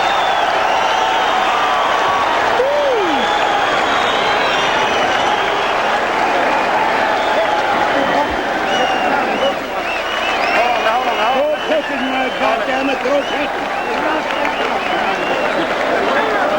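A boxing arena crowd stands applauding and cheering loudly as a round ends in a heavyweight fight, a dense sustained roar of clapping and shouts with whoops rising from it, and a commentator's voice over the noise.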